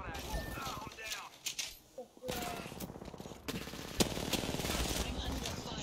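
Gunfire in a shooter video game, rapid bursts and scattered shots over a busy mix of game sounds and voices, moderately loud throughout.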